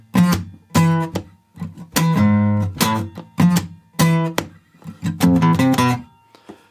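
Electric guitar intro riff from a song, played as short staccato chords with clear gaps between them, loud and close, with no talking over it.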